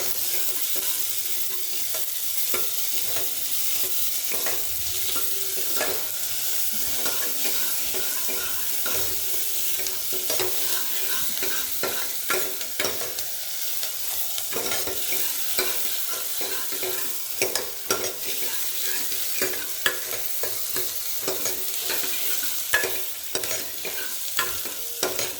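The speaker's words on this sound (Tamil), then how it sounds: "இஞ்சி பூண்டு பேஸ்ட்டு எல்லாம் அப்படியே ஒன்றா போட்டு வதங்கிடும்." Onion sautéing with ginger garlic paste in a pan for a vegetable kuruma, a steady close sizzle with frequent scraping stirs running throughout.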